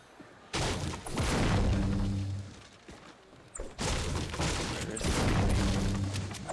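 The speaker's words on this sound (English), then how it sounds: "you can hear those bullets whizzing by him" Gunfire in a competitive Fortnite match at a live Las Vegas event, with dense bursts of shots and impacts in two loud waves separated by a brief lull.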